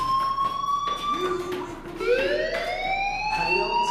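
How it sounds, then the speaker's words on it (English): A fire alarm wails inside the video game Life Is Strange, with loud, continuous electronic siren tones that rise and fall in sweeping pitch bends, layered and close. "do you hear that fire alarm? That means you should be outside"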